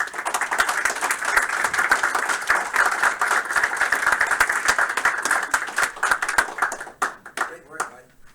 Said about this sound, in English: let's give a round of applause to Alex Pavone here